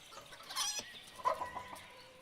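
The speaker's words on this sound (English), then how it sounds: "Little chickens!" Chickens cluck in the farming game Ostriv, a couple of short clucking bursts fairly close over a soft, hissy outdoor background, with no talk.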